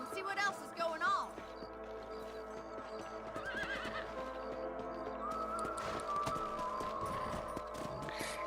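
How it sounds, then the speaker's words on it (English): Horses from the western video game Red Dead Redemption, with hooves clip-clopping at a gallop, a couple of whinnies near the start, and game speech over the top. "Let's get back on the horses and see what else is going on."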